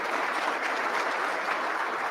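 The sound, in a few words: audience applause for a speaker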